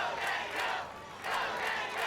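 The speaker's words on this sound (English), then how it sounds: "But the crowd is with him" Crowd cheering and roaring at the Sasuke American obstacle course, a steady broad swell of many voices with two louder surges, no talk over it.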